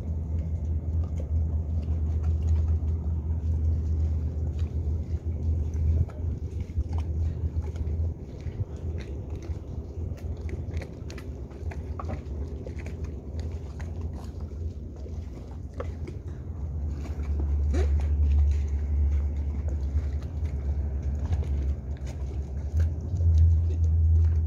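Steady low engine rumble from a three-engine fishing boat at a pier in Koh Yao Noi, Thailand, continuous and fairly loud, with wind buffeting the microphone throughout.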